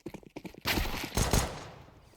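Pistol fire in a Counter-Strike match, a quick burst of shots close up after a few faint footstep-like taps, then fading out.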